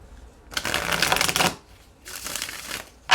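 Two bursts of tarot cards being riffled and shuffled up close, a crisp fluttering rush, each lasting about a second with a pause between.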